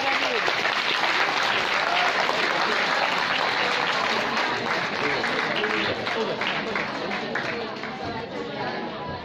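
An audience at a school drama competition prize distribution claps steadily, a loud continuous wash of applause with crowd chatter and voices mixed underneath, tapering slightly toward the end.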